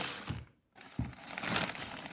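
A plastic bag holding jars of mushroom mycelium crinkles and rustles up close, with a brief quiet gap before the crackling resumes and continues steadily.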